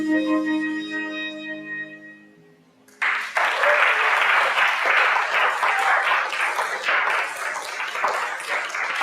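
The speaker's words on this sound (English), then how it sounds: "Thank you for that round of applause." A congregation at a jazz church service breaks into dense, steady applause after a sustained tone fades, the clapping continuing evenly and loudly to the end.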